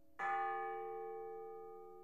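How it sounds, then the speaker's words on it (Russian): A church bell strikes once and its deep metallic tone rings on in a long, slowly fading hum, clear and alone with no voices. "Удары колокола."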